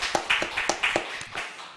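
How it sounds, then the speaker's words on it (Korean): Small church group at a Friday late-night prayer meeting claps together, about half a dozen distinct rhythmic hand claps close by, fading at the end. "우리 박수 하도록 하겠습니다."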